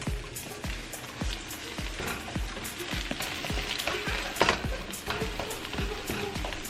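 Eggs frying in hot oil in a wok give a loud, continuous crackling sizzle with rapid popping spatters throughout, close and without talk.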